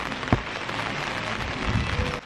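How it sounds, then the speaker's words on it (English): Steady rain patters on surfaces outdoors near a junked CRX car, a soft continuous hiss with a few brief louder knocks, no voices. "it started raining again."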